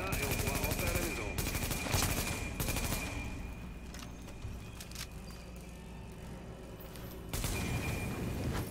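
Gunfire in The Division video game rattles in loud rapid bursts over a rumbling background, then thins to sparser, quieter shots.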